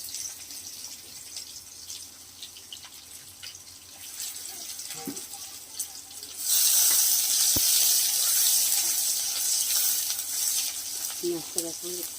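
Chopped onions hit hot oil in a pan for a fish curry, bursting into a loud, steady sizzle after a quieter stretch of kitchen clinks and movement.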